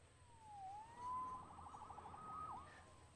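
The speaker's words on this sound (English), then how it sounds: "Saved by the siren." A police siren wails faintly in the distance in the Spider-Man video game, its rising and falling tone drifting over a low ambient hum.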